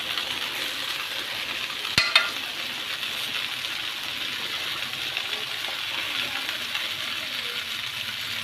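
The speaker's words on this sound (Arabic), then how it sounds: "اللحمه اتشوحت بقى انزل عليها بالميه المغليه على طول" Boiling water poured over sautéed meat in a pot while cooking taro with meat, giving a steady broad sizzle and hiss throughout, with a brief sharp clatter near the start and no talk.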